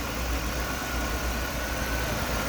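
A 2003 Chevrolet Monte Carlo SS with a GM 3800 V6 idles steadily with a low, even rumble and constant background noise, no voices heard.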